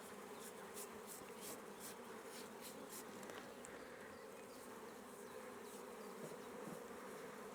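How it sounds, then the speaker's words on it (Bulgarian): Honeybees swarm over a hive frame as it is brushed clean, a dense close buzzing drone that runs steadily throughout with repeated brisk brushing strokes and no talk. "Айде, пчелички, бягайте."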